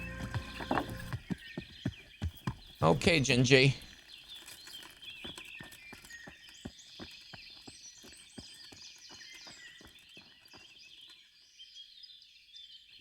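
Horse hooves clip-clop in a video game, a steady run of evenly spaced hoof knocks following a louder burst of whinny-like noise, with brief talk.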